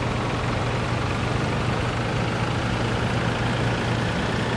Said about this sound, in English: what I need right now is to move this tractor out of the way